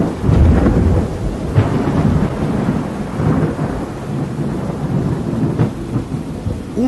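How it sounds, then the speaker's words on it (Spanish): Heavy thunderstorm with loud, rolling thunder peals over steady rain, continuous and close with repeated rumbling swells and no voices. "pude apreciar grandes tormentas rojizas en ese extraño firmamento oscuro"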